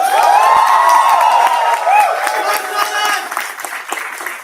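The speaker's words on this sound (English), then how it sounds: "give the loudest cheer and the biggest round of applause" Audience at a panel discussion finale cheering and whooping with loud, sustained applause, a dense roar of voices and clapping that fades slightly toward the end.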